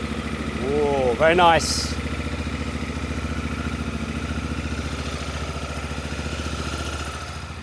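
A Honda Africa Twin DCT motorcycle cranks briefly and catches, then settles into a steady, close, even idle. A man makes a short remark over the start.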